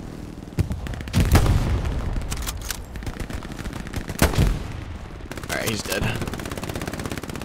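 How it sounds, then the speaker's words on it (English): Machine-gun fire in the World War II shooter Hell Let Loose hammers out in loud, heavy bursts with booming reports, close and forceful, and someone speaks briefly over the shooting. "there's an MG right here."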